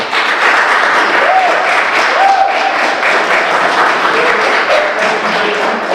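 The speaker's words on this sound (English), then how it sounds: "Let's give a round of applause again to Dr. Samuel." An audience at an inner-city community empowerment event applauds Dr. Samuel, loud close steady clapping from a room of people lasting throughout, with a few voices faintly mixed in.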